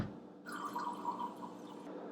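Water poured into a pot while cooking Cameroonian jollof rice, a brief soft splashing pour close by, quiet and alone.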